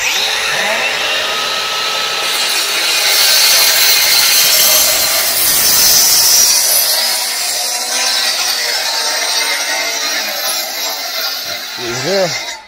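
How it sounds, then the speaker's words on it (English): An angle grinder runs along saw cuts out to the edge with a loud, steady high-pitched whine and scraping for most of the stretch, fading near the end as a voice speaks briefly. "Hitting them with the grinder, taking them all the way to the edge."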